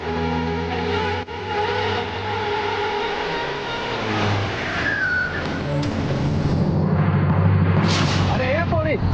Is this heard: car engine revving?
yes